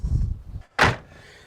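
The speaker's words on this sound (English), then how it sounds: "Remember how that door shuts, I love that." A Mercedes-based luxury off-grid motorhome door swings shut with one solid, close thud after a brief lead-in of low handling noise, then quiet.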